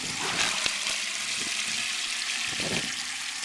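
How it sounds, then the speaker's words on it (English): Water being sucked down into a borewell during aquifer recharge, a continuous rushing gurgle with a few sharp knocks, loud and close, no voices. "Sucking the water up."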